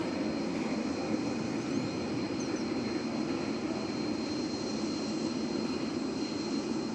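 A Boeing 787-9 jet airliner arriving at DFW airport at dawn, its engines a steady, distant broadband roar with a faint whine, continuous and unbroken.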